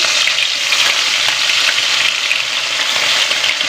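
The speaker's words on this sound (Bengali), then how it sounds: "এবার মাছে এক কড়াইতে মাছগুলো দিতে হবে" Fish frying in hot oil in a wok produces a loud, dense, unbroken sizzle close up, bright and spattering throughout, with no talking over it.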